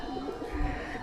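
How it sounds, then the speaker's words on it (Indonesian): A pigeon at a neglected zoo coos softly in a brief murmur over a steady background hum. "itu ada burung dara"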